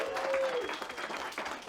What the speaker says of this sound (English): if we could just hear a round of applause for the celebrants